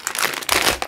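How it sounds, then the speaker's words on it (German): Plastic bags from a Wekki Cinderella kit crinkle in two short close bursts of rustling, loud and near. "in diesen Tüten von Cinderella"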